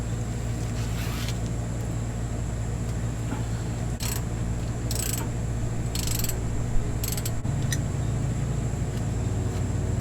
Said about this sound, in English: we can remove the last bolt and remove the cover to clean it